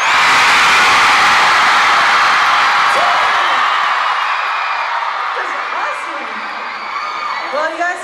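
A large concert crowd at SM Live in New York screams and whoops loudly and continuously, the roar slowly fading toward the end.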